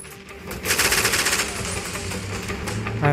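Minigun in the mobile shooter Warfriends spinning up and firing a fast continuous rattling stream of shots, loud and close, tapering into a lingering mechanical hum.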